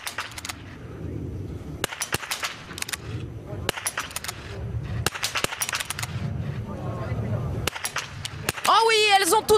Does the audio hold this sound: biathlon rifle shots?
yes